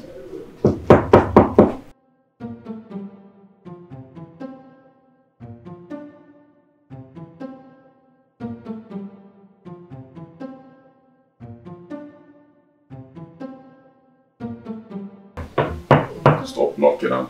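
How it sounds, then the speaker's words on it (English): Knocking on a door comes in repeated groups of firm raps, each cluster a few knocks long with pauses between, and people talk loudly at the beginning and end. "Stop knocking, I'm coming."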